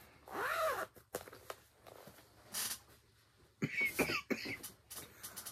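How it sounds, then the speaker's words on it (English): A few sharp coughs close by, separated by quiet pauses and small rustling noises. "Oh my goodness, this cough is driving me crazy."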